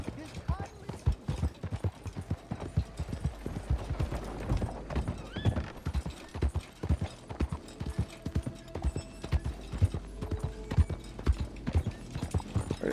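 Horse hooves clip-clopping at a steady trot in Red Dead Redemption 2, close and continuous, with neighing and tack jingling in between and someone talking over the hoofbeats.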